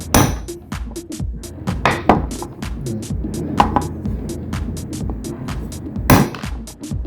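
Sharp, close hammer strikes ring out in an irregular series of repeated blows while repairing a Hatari electric fan, with a few louder hits standing out among lighter taps.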